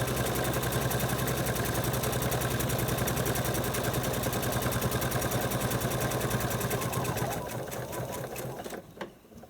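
Sewing machine stitching fabric with a zipper foot fitted, a steady fast mechanical whir with dense needle ticking running loud and continuous, then slowing and stopping near the end.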